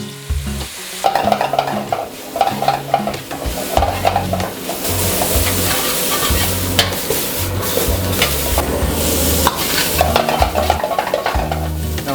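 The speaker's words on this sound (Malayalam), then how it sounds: "നമുക്ക് വെജിറ്റബിൾസ് ഇട്ട് കൊടുക്കാം." Vegetables (onion, carrot, capsicum, red and white cabbage) being stir-fried for hotel-style chicken noodles, with a steady loud sizzle and repeated scraping stirs of a utensil in the pan throughout, no talking.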